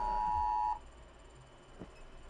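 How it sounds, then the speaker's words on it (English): National emergency alert test alarm: a single loud, pure electronic beep tone held for under a second, then cutting off to quiet room noise with a faint click. "emergency alarm that they were going to be doing nationally"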